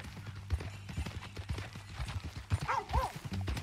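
Steady horse hooves clip-clopping at a walking pace in Red Dead Redemption 2, fairly close, with a low rumble underneath and a brief whinny-like tone near the end.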